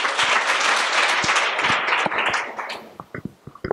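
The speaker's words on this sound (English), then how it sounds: "Can you clap for them?" Audience applause at a women's empowerment summit, a burst of dense clapping that thins out into scattered individual claps before fading.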